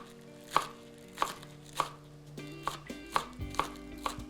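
A knife chopping fresh green onions on a cutting board, seven sharp close knocks at a steady, unhurried pace, heard alone with no talking.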